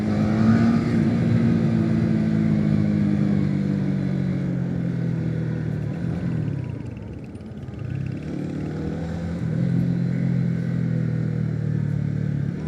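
A Honda Winner X motorcycle's exhaust drones while it is ridden through traffic, its engine pitch slowly falling, dipping, then rising again as the bike eases off and accelerates, loud and close with no talking.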